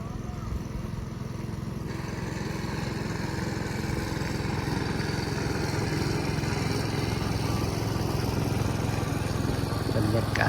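A small boat engine drones steadily as the craft returns from the beach at sunset on a river, a continuous near-constant hum with light wind and no clear voices.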